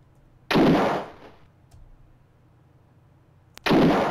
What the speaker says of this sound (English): I know I'm wasting bullets, I just want to see how many bullets it takes.